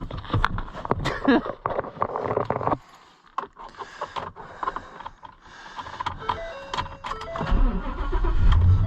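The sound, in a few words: Ford Super Duty truck engine starting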